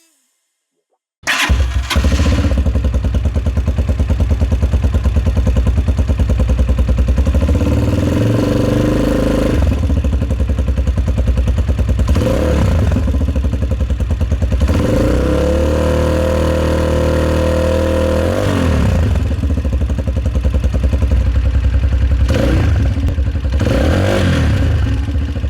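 A Vento Crossmax 220 motorcycle engine starts after a brief silence, then runs close and loud, idling with rough clatter and several revs rising and falling.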